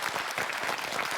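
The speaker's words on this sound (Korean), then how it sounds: "여러분 큰 박수 보내주시기 바랍니다" Studio audience of a Korean TV health show bursts into steady, dense applause, close and loud, filling the short moment without a break.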